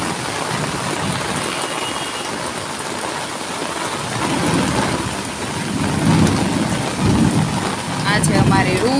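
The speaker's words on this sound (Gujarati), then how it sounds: "અમારે અહીંયા તો બહુ વરસાદ છે" Heavy rain pours steadily in a dense hiss, with deep rumbles of thunder rolling in during the second half, loud and continuous.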